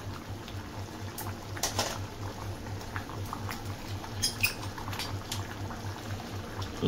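Khichuri simmers in a pot as ghee melts into it, giving a soft steady bubbling and faint crackle with a few light clinks, close and quiet, with no talking.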